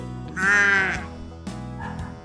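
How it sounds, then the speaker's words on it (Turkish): A cartoon lamb on a children's farm-animal puzzle gives a loud, drawn-out bleat, then a shorter, quieter second bleat follows. "Kuzu."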